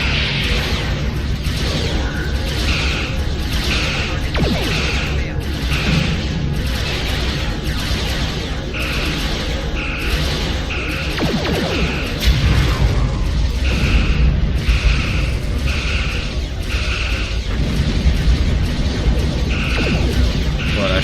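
Weapons fire and explosions fill a Star Trek space combat game against Tholian ships, a dense, loud, continuous barrage of rhythmic blasts, booms and whooshing bursts lasting throughout.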